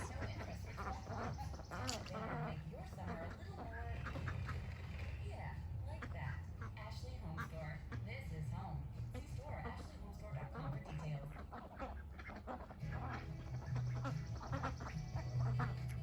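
Pet ducks quacking repeatedly around a child, including a drake, with nasal calls scattered throughout alongside a person talking nearby.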